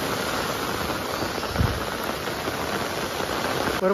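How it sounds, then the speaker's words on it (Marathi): Heavy evening rain pours down at a riverside fishing spot, a steady broadband wash of downpour, with a single low thump partway through and a short sound at the end. "बापरे पाऊस बघा परत जोरदार चालू झाला"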